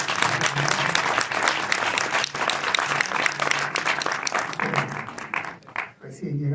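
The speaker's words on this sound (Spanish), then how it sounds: "antes que nada les quiero pedir un aplauso acá para Germán Kral" Audience applause at a German film festival press conference in Buenos Aires, dense steady clapping from a sizable crowd that tapers off at the end, with speech nearby.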